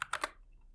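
Three quick keystrokes on a computer keyboard while entering a value into a filter field, crisp and close, followed by quiet.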